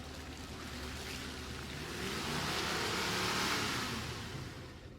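Lexus GX 470 engine driving off-road with differential lock on and low range off, a steady low engine drone that swells toward the middle and eases off, mixed with rushing tire and wind noise.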